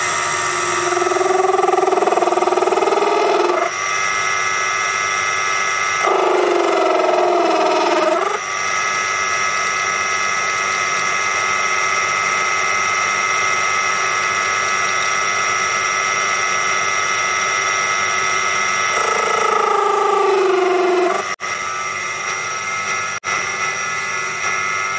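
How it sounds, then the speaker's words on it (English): A Proxxon PD 250/e lathe cutting a chamfer on a small part, its motor droning steadily with tonal whine and a few rising, chattering passes as the cutter engages, loud and close with no talk. "I wanted a decent sized chamfer on the corner, but I'm limited in how much engagement with the cutter the lathe can handle before the chatter builds up"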